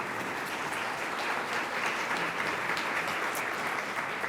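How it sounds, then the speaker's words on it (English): Audience applause at a community forum on housing and health in Central Ohio, a steady wash of clapping held for several seconds with no talk over it. "Let's give them a round of applause."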